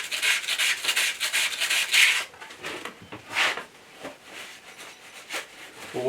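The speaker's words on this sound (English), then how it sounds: "it's just a little bit of a polishing motion on there, just to make it a little bit smoother." A shaft is polished against the wet stone of a WG200 8-inch sharpening system. It gives close, moderately loud rubbing and scraping strokes that come in uneven bursts, with no voices.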